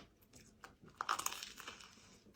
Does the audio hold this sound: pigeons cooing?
no